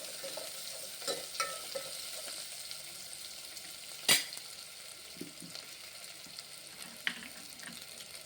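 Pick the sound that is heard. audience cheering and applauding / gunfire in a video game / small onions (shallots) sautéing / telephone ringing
small onions (shallots) sautéing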